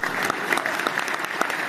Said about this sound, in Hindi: अगर लगा हो तो ताली बजाओ।